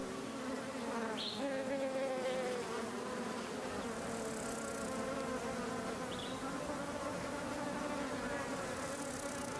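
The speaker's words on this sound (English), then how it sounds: "One bee almost knocking an ant right off the flower." Bees buzz steadily around nectar-filled flowers where large black ants are also feeding, a continuous close insect drone with a few brief louder passes, no voices.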